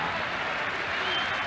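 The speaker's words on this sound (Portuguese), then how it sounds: "Bonito lance no Parque Antártica, aplausos do torcedor palmeirense" Palmeiras supporters applaud at Parque Antártica during a 1999 Brazilian championship football match against Botafogo: a steady, dense wash of crowd clapping and stadium noise that holds at an even level throughout.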